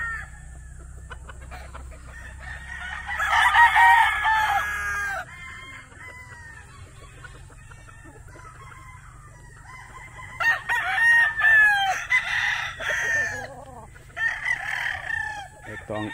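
Bull stag roosters crowing on a farm, two loud drawn-out crows several seconds apart plus a shorter third call, over faint background clucking.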